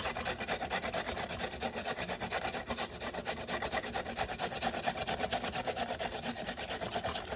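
Carrots rasped steadily against the coarse side of a box grater, a close, continuous scraping with quick repeated strokes and no talking.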